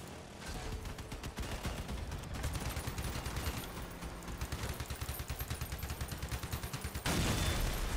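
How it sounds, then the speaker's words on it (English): A video game machine gun fires in long, rapid bursts, with dense, rhythmic gunfire that stays loud throughout and pounds harder near the end, with no talking. "I keep forgetting I have a machine gun on this thing"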